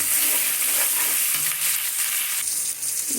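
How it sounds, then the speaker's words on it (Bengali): Onions and chopped tomato sizzle and fry in a pan while being stirred, a steady close hiss with occasional scraping, no talking. "দিয়ে সুন্দরভাবে নাড়াচাড়া করব।"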